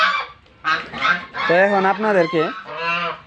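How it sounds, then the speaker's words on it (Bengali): Geese honk loudly and nearby on a turkey farm in Darrang, Assam, with several harsh, rising calls in quick succession while someone speaks briefly over them. "আমার রাজা হাঁসগুলা ওইদিকে আছে"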